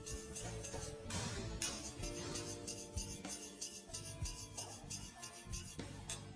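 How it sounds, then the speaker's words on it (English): A CFMOTO 500SR engine part is scraped horizontally during a teardown, producing a gritty, rhythmic rasping with small metallic clinks, close and fairly quiet with no speech. "First, let's scrape it horizontally."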